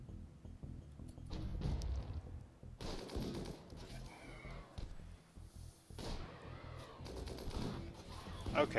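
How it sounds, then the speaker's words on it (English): Bursts of small-arms gunfire ring out in the RimWorld video game, clustered irregular cracks and rattles separated by short quieter gaps, faint and fairly distant. "now we're just shooting each other"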